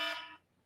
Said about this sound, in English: That was my alarm to tell me that it's time to do our interview.